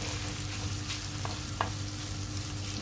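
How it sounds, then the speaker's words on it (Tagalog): Chicken hotdog fries in a pan with sautéed onion and garlic, giving a steady, close sizzle and crackle with a few small pops and scraping stirs, with no talking. "para maprito natin"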